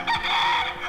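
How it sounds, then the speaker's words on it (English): A rooster crows once, a short, close, bright call lasting under a second, with no other sound around it. "there's the rooster crowing"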